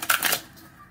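A deck of tarot-style reading cards is shuffled by hand, a short close rustling flutter lasting under half a second and then fading out.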